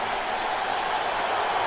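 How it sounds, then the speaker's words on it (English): Broad roar of a football stadium crowd in Minneapolis, steady and loud with applause mixed into the cheering, rising a little toward the end. "3rd and 9, and the crowd comes alive."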